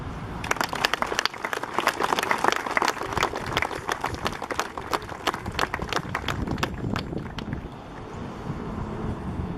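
Outdoor audience clapping at the inauguration of a road, the RN 125 "Route de la liberté", sharp irregular claps from a modest crowd over wind noise, thinning toward the end.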